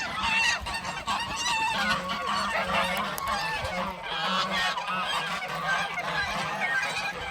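A flock of geese honks continuously, loud and overlapping, close at hand with no pauses.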